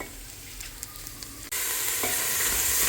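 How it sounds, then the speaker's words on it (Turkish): Steady sizzling of tomato paste frying in a pan, a continuous hiss that jumps louder midway as it is stirred. "Salçamı da güzelce eritiyorum, kavuruyorum böyle kokusu çıksın."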